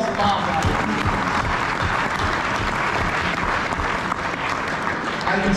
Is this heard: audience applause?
yes